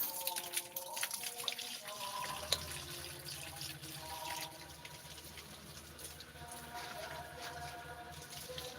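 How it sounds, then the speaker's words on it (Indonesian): Flowers are watered with a continuous splashing, trickling stream of water, fairly close and steady, with faint bits of background sound mixed in. "live-live siram bunga"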